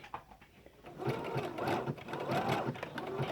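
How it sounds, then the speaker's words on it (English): A sewing machine runs a zigzag stitch over fabric laid on lace, giving a steady, close, rhythmic mechanical whir with a regular needle pulse, without speech. "I decided I'm going to stitch that with a zigzag."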